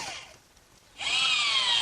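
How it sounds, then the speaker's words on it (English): A power drill spins briefly, falls quiet, then revs up loud and sustained as it drives a screw into a wooden workbench frame, heard up close with no talk. "before I drive all the screws in"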